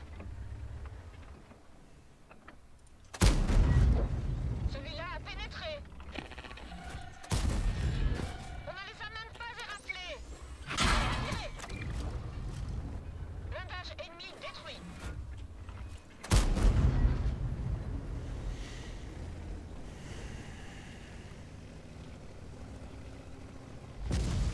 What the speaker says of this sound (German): Das war der FV, der schießt AP